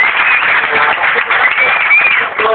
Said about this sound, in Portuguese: Vamos aplaudir mais uma vez Sabrina.